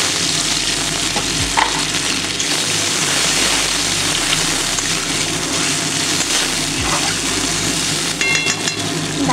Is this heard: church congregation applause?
no